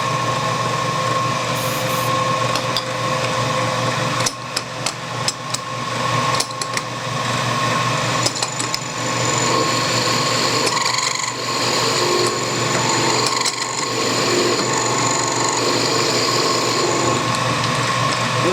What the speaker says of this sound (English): a milling cutter and a drill chuck